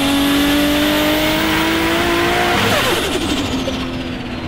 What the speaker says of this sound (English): I always wanted that single turbo RB26 noise.